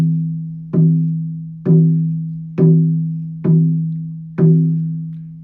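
A buffalo hide spirit drum is struck five times at an even, unhurried pace. Each hit gives a deep, booming tone that rings and fades before the next, with no other sounds.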